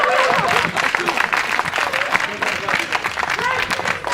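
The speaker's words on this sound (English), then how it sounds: "He needs the applause more than I do" A stand-up comedy crowd claps for a comedian, the applause running as a continuous broadband patter beneath a comedian talking over it.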